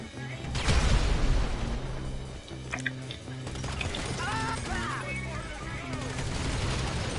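Video-game gunfire blasts away at boxes on the ground, loud rapid shots and booms bursting over a busy game soundscape, with voices faintly in the background.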